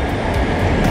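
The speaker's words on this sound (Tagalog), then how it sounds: "Yan ang pinaka latest na light rail." A Sound Transit light rail train rumbles past close by near Angle Lake, a steady loud rolling roar with faint rhythmic clatter.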